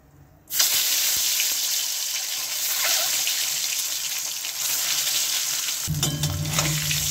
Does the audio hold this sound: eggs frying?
yes